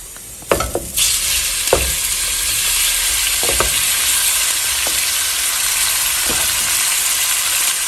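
Long strips of beef steak go into a pot and fry with a loud, steady sizzle, broken by a few sharp clacks and clinks as the pieces are added and stirred.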